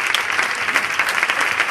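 An audience applauds at a live mentalist and comedy show, dense and loud clapping that carries steadily for a short stretch with no talk over it.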